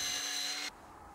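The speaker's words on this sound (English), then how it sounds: "Add marking to the cutting jig and cut last part." A wood part cut on a mitre saw guided by a cutting jig, the blade's loud steady whine running for about half a second before stopping abruptly, leaving a quiet hum.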